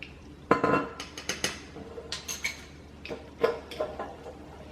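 A mayonnaise, Swerve sweetener and apple cider vinegar dressing being stirred in a bowl, with close irregular clinks and taps of a utensil against the bowl and no speech.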